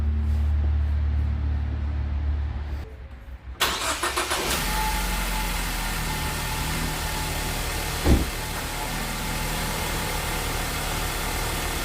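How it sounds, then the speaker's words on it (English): A 2015 Ford Focus cranks briefly after an oil change, catches and settles into a steady, loud idle that runs on unchanged with a single faint knock partway through. "before we start the car"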